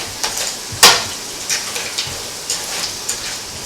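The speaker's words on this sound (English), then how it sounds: "Add the crab. Mix to combine with that flavorful curry base we created." Crab pieces sizzle as they are stirred through a curry base for Trinidad and Tobago curry crab, with a crackling frying hiss and several short scraping stirs, one loud burst near the start, close and without talk.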